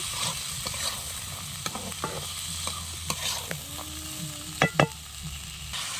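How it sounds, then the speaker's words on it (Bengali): Onion and green peas stir-fried in a wok, with a steady low sizzle broken by scraping spatula strokes and a couple of louder clanks near the end, close and with no voices. "মটরশুঁটি দানা বিন কড়াইটাও দিয়ে দিলাম, দিয়ে কষাবো ভালো করে"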